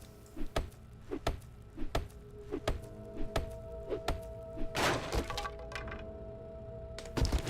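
An axe strikes resource nodes in 7 Days to Die, landing steady, sharp cracking hits about every half second. A louder, crunching break bursts out midway, then the rhythmic chopping resumes.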